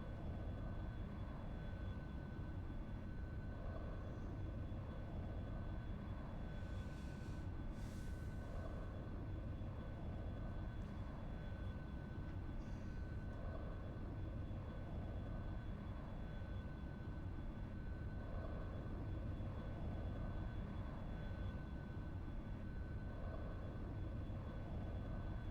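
An airplane engine drones steadily in flight in the X-Plane flight simulator during a VOR localizer approach to Mostar, a faint, even hum that never changes and carries no speech.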